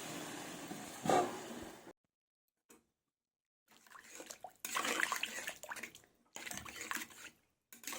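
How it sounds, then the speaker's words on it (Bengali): Water is poured into a pan of simmering fish curry with pointed gourd, giving faint intermittent splashing pours broken by short silent gaps. "এবার দিয়ে দেবো জল। আমি জল দিয়ে দিলাম।"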